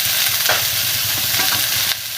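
Loud, close sizzling of potatoes frying in oil, with a couple of stirring scrapes before the hiss drops slightly.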